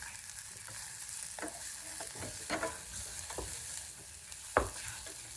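Garlic and onions fry in a pan for a Sri Lankan prawn curry. A soft, continuous sizzle runs beneath repeated scraping strokes of a spoon, and one sharper knock comes near the end.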